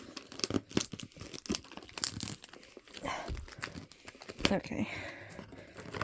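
Manga package wrapping is sliced and torn open in a quick series of sharp rips, crinkles and crunches, close and fairly quiet, with a voice speaking briefly.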